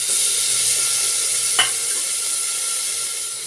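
A bay leaf, peppercorns and tomatoes sizzle in hot butter in a pan for tomato carrot soup, giving a steady, close, hissing fry with one brief clink partway through and no talking.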